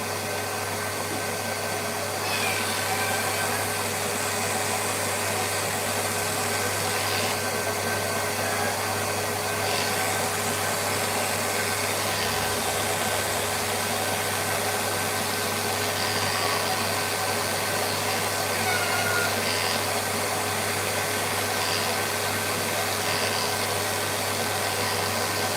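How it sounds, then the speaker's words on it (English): Electric clippers hum steadily and close while shaving a cat's rear end during grooming, a constant buzzing whir with faint scratchy passes, no speech. "So now I will finish it with the bum shave"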